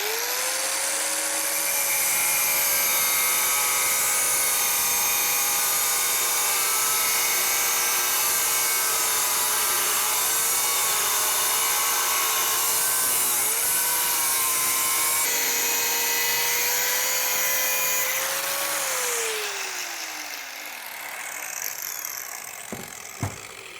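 A DongCheng DSM03-100A angle grinder cutting metal runs loud and close with a high, sustained whine and a steady harsh buzz, its pitch sagging slightly under load before the motor spins down near the end.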